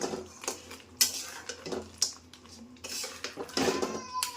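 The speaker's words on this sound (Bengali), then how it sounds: "এরপর আরেকটু নেড়ে নেব" Clattering spoon-and-pan scrapes and clinks as crab curry is stirred in a pan on a gas stove, with coriander just added; irregular close metallic knocks in short bursts, no talk.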